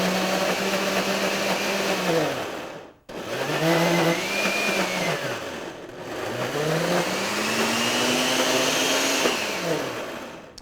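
A blender churning hummus runs loud and close, its motor whine shifting in pitch as it works through the thick mixture, with two brief pauses before it spins back up.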